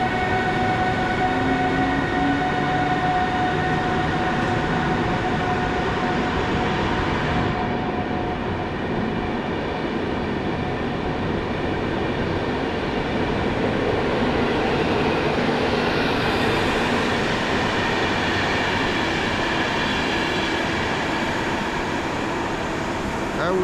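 Zamojski passenger train starting to pull out of a Polish station, with a loud, continuous rumble and hum of the train rolling past nearby for the whole span, steady in level with no voices.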